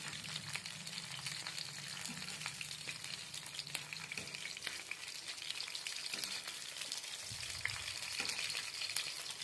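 Pomfret fish rubbed with masala fries in a pan, a steady, soft crackling sizzle with tiny spattering pops throughout and no talking.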